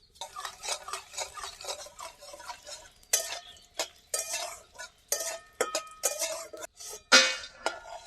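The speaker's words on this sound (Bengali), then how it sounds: "বড়ি ভেজে নেব।" Bori, lentil dumplings, fry in mustard oil in a wok, heard as repeated scraping and stirring strokes with light metallic clinks and a soft sizzle underneath, close and uneven in rhythm.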